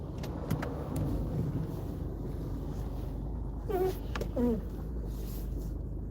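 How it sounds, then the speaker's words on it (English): A car approaches faintly along a road, a soft low rumble building under a steady background hiss, with a few brief squeaky chirps partway through. "here comes a car."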